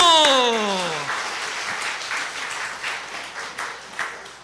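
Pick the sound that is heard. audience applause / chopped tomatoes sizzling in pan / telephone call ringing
audience applause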